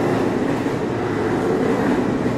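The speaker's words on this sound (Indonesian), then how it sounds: "Suara kereta." A continuous rumbling roar of a train going past near Manggarai, steady and loud throughout, with no voices.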